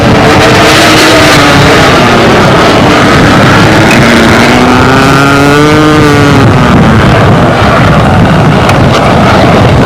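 A model pylon racing airplane's small engine throttles down in gusty wind, its loud buzzing whine sliding lower in pitch over several seconds, heavy wind rumble on the microphone throughout.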